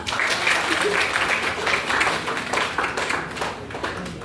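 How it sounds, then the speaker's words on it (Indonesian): Classroom applause for a student group after their answers, a steady patter of many hands clapping close by, lasting the whole stretch with a voice or two mixed in. "Kasih tepuk tangan dulu."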